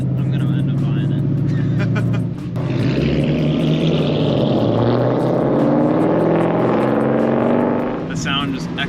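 A loud Ford Mustang GT exhaust rumbles steadily, engine note swelling and holding as it echoes off surrounding cars and buildings, with a brief dip before rising again.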